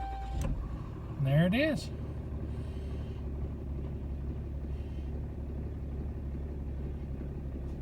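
A Cummins 6.7 diesel in a Ram truck cranks over and catches, then settles into a steady, low idle rumble close by, with someone speaking briefly as it fires up.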